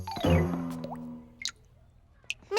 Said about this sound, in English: Miss Martin, the tap is leaking.